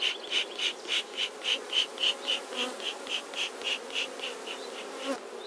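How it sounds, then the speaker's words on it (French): Honeybees buzz around an open hive frame during queen rearing, a steady close swarm-drone pulsing in regular waves, with no voices. "J'essaye de ne pas emmener trop d'abeilles"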